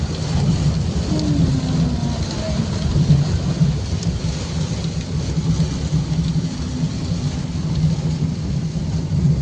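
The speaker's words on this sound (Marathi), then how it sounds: "खूप पाऊस आहे." Heavy rain pours steadily on a road trip from Mumbai to Konkan, with a dense constant hiss, a low rumble underneath and no voices.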